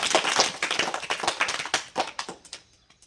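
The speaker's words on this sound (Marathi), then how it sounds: "परत टाळ्या वाजव त्याला जोरात" Hands clap in a quick run of sharp claps, loud and close, in a home arithmetic lesson with a child, the claps thinning and fading toward the end.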